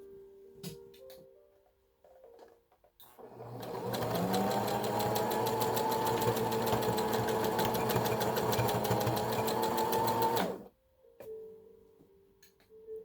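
A sewing machine runs a half-inch seam along the edge of a bandana, one continuous rapid mechanical hum lasting about seven seconds, close and clear, with light handling sounds before and after.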